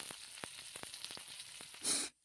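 Magur catfish sizzles and crackles in hot oil in a kadhai, with scattered sharp pops over a quiet hiss, ending in a brief louder burst before sudden silence.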